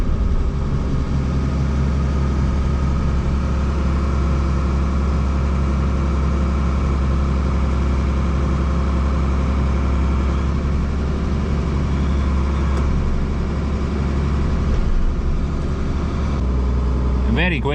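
A machine engine idling steadily and loud before shutdown during land clearing work, a continuous low rumble that stays even throughout.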